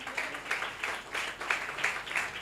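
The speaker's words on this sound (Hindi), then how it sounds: "अरे इतनी कम तालियां नबी के लिए" Scattered audience clapping for a prophet during a Hindi-language Christian sermon, thin and uneven in several soft bursts rather than a full ovation.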